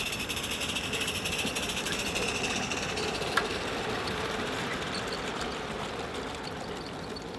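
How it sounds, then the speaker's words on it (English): An NGG11 Garratt model locomotive runs steadily on a garden railway, hauling a rake of South African wagons, giving a continuous mechanical rumble and hiss with a single sharp click partway through and no talk. "The run started well, and the loco looked magnificent, hauling a rake of South African wagons, especially over the bridges."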